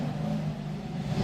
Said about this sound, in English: So you get a sporty muscle car there, and you got to make some noise and waste some gas.